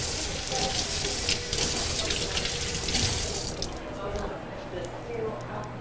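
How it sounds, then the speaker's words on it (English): A knife is rinsed under a running kitchen tap, a steady close rush of water splashing into a sink that cuts off near the end, with voices in the background. "Let me wash this knife real fast."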